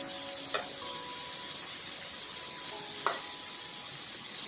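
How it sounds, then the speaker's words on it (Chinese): Minced garlic sizzles gently in olive oil in a wok over low heat, a steady soft hiss with two faint clicks of a utensil, close and quiet, no voices. "蒜蓉在橄榄油里小火慢炒，不焦不火，非常的香。"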